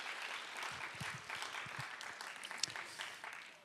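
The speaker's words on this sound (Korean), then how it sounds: "다시 한 번 더 격려의 박수로 주십시다" A church congregation at a Friday prayer meeting gives encouraging applause to the children, a soft, fairly distant patter of clapping with a few low thumps mixed in.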